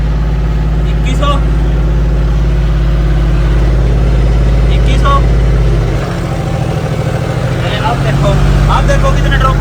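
John Deere 5405 tractor engine running steadily at around 2100 RPM in D1, then dipping briefly as the revs drop by about 100 RPM under load before recovering, a loud continuous low drone with people talking over it.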